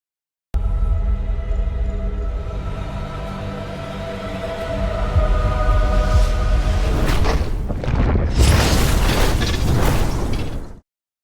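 A deep rumbling roar builds steadily, then erupts into a loud, booming explosion with crackling bursts before cutting off abruptly.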